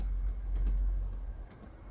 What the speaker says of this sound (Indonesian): dengan menekan Ctrl D pada keyboard